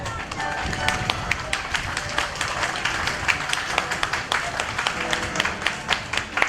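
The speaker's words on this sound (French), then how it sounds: "je vous demande de vous applaudir chaudement" At a school year-end closing ceremony, an audience claps warmly for the pupils, a loud, lively mix of many hands with distinct sharp claps standing out near the microphone.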